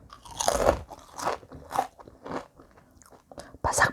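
Several loud, crisp crunches from close up as sugar-coated fried green chili crisps are bitten and chewed, coming in uneven bursts with short pauses between.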